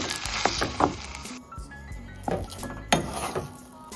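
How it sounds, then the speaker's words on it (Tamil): A spoon clinks and scrapes against a bowl while potato vada filling is mixed, with irregular knocks and clatter close by and a few louder strikes. "இதை நல்லா கலந்து கொடுங்க. நல்லா மிக்ஸ் பண்ணணும்."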